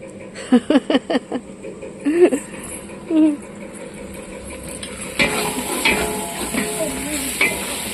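Vegetables sautéing in a pan with salt added, a low steady sizzle broken by several sharp scrapes and clinks of a spoon stirring against the metal, louder frying toward the end, with someone talking over it.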